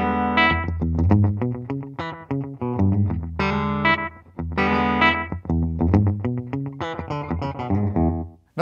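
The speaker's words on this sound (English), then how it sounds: "Analog mode is really good for the slapback kind of rockabilly sound too" Electric guitar through a Boss DD-7 delay pedal in analog mode, playing a rockabilly slapback lick: fast, punchy picked notes with short doubled echoes, slightly distorted, in continuous bursts with brief pauses and no talking.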